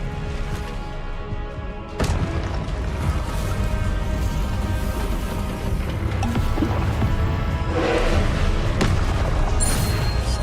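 A disarming spell cast during combat in the Hogwarts Legacy game lands as a deep, booming burst at about two seconds, followed by dense, continuous rumbling game effects and music that stay loud throughout.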